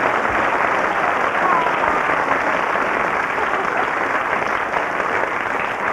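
Steady, dense applause from a group runs unbroken for the whole stretch at an even level, a uniform wash of many hands clapping together.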